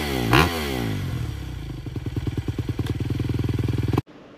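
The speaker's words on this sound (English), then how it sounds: "I have the stock exhaust on and everything. It still sounds really good." A 2024 Honda CRF 250RX with its stock exhaust idles and then revs in quick repeated blips, a close, punchy single-cylinder bark that climbs and pulses before cutting off abruptly.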